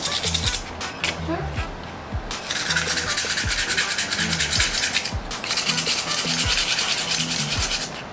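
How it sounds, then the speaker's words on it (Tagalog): Scratches on a motorcycle heat guard are sanded by hand in repeated rasping strokes, some quick and some longer, close and loud, with brief low sounds and speech-like tones between passes. "Okay, liha muna itong gasgas."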